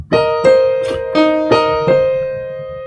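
A short piano phrase of five struck notes played with the sustain pedal, each ringing on and blending into the next with a smooth, sustained decay.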